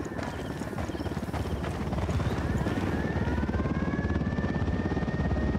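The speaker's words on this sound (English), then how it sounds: "Chopper inbound." Helicopter approaching in the video game Ghost Recon Wildlands, a loud steady rotor chop with a rising engine whine that grows stronger and closer, no talk over it.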